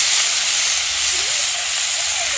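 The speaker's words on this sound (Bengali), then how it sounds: "এই যে লাউ দিয়ে দিলাম।" Chopped bottle gourd hits hot oil in a pan while cooking lau ghonto, setting off a loud, steady sizzling hiss that holds evenly from start to finish.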